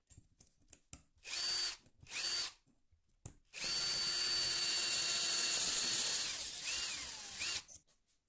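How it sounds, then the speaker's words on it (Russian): A power drill bores a hole through a drink bottle cap, with brief whirring bursts followed by a longer sustained high-pitched drilling run, close and loud. "Теперь берем крышку от какого-нибудь напитка и сверлим в ней отверстие."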